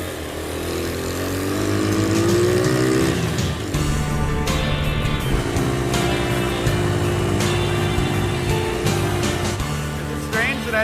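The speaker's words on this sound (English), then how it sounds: "Cars." Engines of cars racing on the Bonneville salt flats drone and rise in pitch, loud and sustained, with a sweep of acceleration and shifting tones layered over each other.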